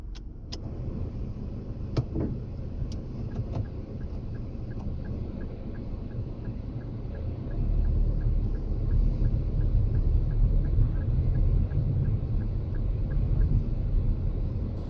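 Daihatsu Mira small hatchback being driven on the road, a steady low interior engine and road rumble that swells louder partway through, with a few faint clicks and rattles early on.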